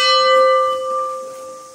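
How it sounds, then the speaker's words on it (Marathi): A large temple bell at Rameshwar temple, Vijaydurg, rings out once, its deep, sustained tone and shimmering overtones slowly fading, with no voices. "ती घंटा आहे मोठी लावलेली मंदिरात"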